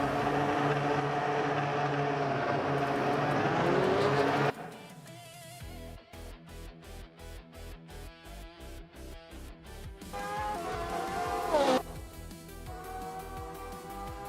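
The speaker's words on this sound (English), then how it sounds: "the race is underway at the Korean Grand Prix track. Route 3 Boy Gaming Studios is sitting pretty on pole in a classic 1975 Parnelli 4P J4" A 1975 Parnelli race car engine at the Korean Grand Prix in a video game, a high whining drone that cuts out abruptly, then returns in choppy pulsing bursts and a rising rev near the end.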